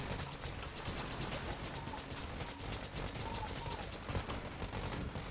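Rapid, dense gunfire and clattering mechanical shots in the Enter the Gungeon roguelike run without a break at a steady moderate level, with no voices.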